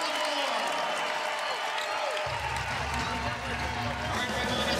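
Basketball arena crowd at a Texas Tech at Texas women's game, cheering and applauding in a continuous roar with a low rumble that swells partway through, and a commentator talking over it.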